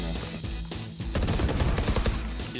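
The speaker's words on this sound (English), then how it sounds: "Coming in at number 6 is the dirtiest wallbang in Valorant history." Sustained rapid gunfire in a Valorant match, a dense string of loud close shots with a brief earlier burst, the shooting spraying through a wall.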